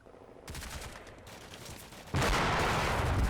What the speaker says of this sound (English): it's another tank shell